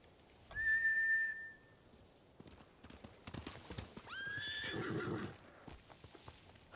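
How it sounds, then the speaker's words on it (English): Horses whinny twice over a rapid clip-clop of hooves, with faint whistling in the background, in the video game Ghost of Tsushima. "Bastards scared off the horses."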